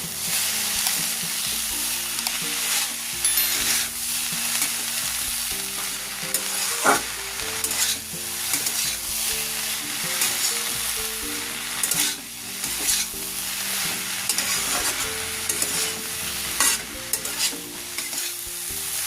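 Drumstick flowers stir-frying with vegetables in a pan for a Bengali chochori, a continuous close sizzle broken by repeated scraping strokes of a spatula for a long stretch, with no talking.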